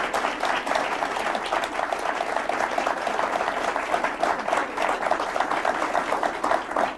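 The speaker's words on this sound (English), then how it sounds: "let's give them a round of applause." A studio audience applauds a project management panel with dense, steady clapping that stays loud and even throughout.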